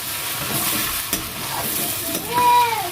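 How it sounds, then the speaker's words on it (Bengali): Fish frying in oil in a home kitchen, a steady close sizzle running throughout with a few utensil scrapes and a brief tonal squeak near the end, no one speaking. "দেখো মাছগুলো ভাজা হয়ে গেছে।"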